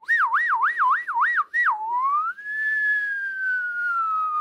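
A person whistles an imitation of a police vehicle siren. A fast wavering yelp pattern shifts into a long falling wail, loud and alone.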